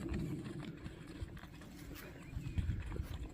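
Hooves of the horse Jaja striking the ground in a steady clip-clop rhythm as it moves into a gallop during a riding session, close and fairly loud with some outdoor rumble.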